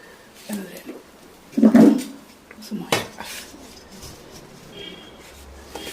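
Boiled turmeric roots being scooped out of a cooking pot for homemade turmeric powder, with a loud clatter of utensil against pot near the start, then a sharp knock and lighter scraping, with a voice speaking over it.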